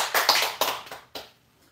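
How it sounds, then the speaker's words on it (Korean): A church congregation claps during a Sunday worship service: a few loud bursts of hand clapping in quick succession that thin out and die away into near silence within about a second. "한번 박수 한번 하시고"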